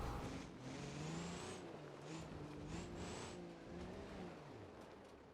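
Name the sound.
van engine revving in BeamNG.drive video game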